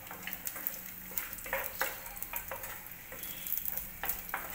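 Cashews and almonds roast in ghee with a soft, fairly quiet sizzle, punctuated by frequent light stirring clicks and scrapes of a spoon against the pan.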